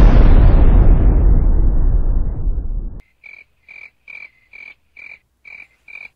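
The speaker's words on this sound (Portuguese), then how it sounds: "Surgiu uma explosão atrás de mim." An explosion sound effect: a loud, deep blast with a long rumbling decay fading over about three seconds, followed by a series of short, evenly spaced croaking chirps.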